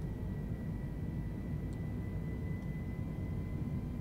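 Airbus A320 Neo engines at climb thrust in Microsoft Flight Simulator produce a steady, even jet roar with a faint high whine, unchanging throughout.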